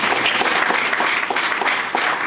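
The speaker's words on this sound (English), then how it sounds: "Round of applause to them also." An audience at a credit union's annual general meeting applauds, a loud, continuous clatter of many hands clapping that fills the hall for the whole stretch.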